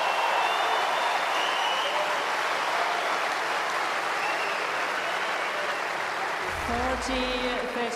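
Tennis crowd at a United Cup 2024 match applauding steadily and loudly throughout, a dense sustained roar of clapping; near the end a voice speaks briefly over it.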